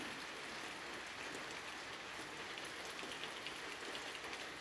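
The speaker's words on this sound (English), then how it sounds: "It's starting to rain again, so I don't want to go out there." Continuous rain falling outdoors at a homemade bandsaw mill site, an even, dense hiss of drops with no pauses and no voices, moderately loud and steady for the whole stretch.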